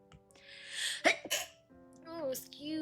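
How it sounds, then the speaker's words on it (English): A single close sneeze bursts out after a brief inhaled buildup, loud and sharp, while someone sits drawing digital art; a short quieter voiced sound follows, and talking picks up afterward. "Oh, I need to sneeze."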